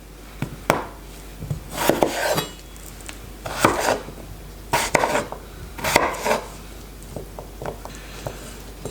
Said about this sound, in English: I'm going to cut them quite small so that they will boil easily